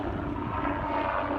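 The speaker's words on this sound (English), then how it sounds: "I'm pretty sure that's a media helicopter going over" A media helicopter passes overhead above a neighborhood during Northern California fires, a faint, steady rotor and engine drone filling the brief moment without any voices.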